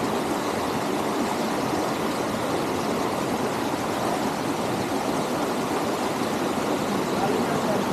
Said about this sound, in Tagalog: Yung waterfalls oh.